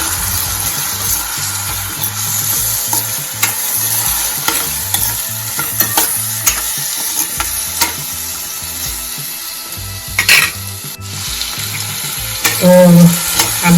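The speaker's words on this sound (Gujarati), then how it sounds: "બધા જ વેજીટેબલને આપણે ત્રણક મિનિટ જેટલું સાતળવા દઈશું" Peas, carrots and corn kernels sauté in hot oil for masala Maggi, a loud, continuous sizzle broken by rhythmic scraping and clacking of a spoon stirring through the pan.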